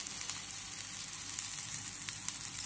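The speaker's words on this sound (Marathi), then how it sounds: "कांदा चांगला भाजला." Onion frying in a pan gives a steady, close hiss and sizzle with small pops throughout, at moderate loudness and with no voices.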